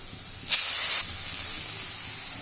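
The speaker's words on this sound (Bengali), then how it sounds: "এবার জল দিয়ে দিব।" Water poured into hot frying oil in a Bangladeshi home kitchen: a sudden loud hissing burst lasting about half a second, then a quieter steady sizzle.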